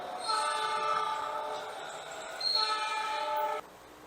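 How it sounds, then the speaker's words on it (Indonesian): A train horn sounds in two long, loud, steady blasts with a short gap between, played back from a video and heard somewhat indirectly, ending abruptly. "Kereta api."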